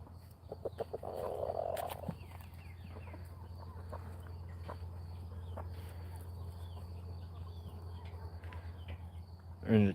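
Chickens cluck on a farm, with scattered clucks and calls over a steady low background hum and a sharp, loud burst at the very end.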